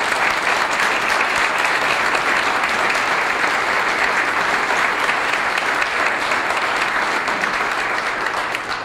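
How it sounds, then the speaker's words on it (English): A large audience at a youth citizen-of-the-year awards event applauds student nominees with steady, dense clapping that holds loud and even throughout with no talk. "give all of these student nominees a round of applause"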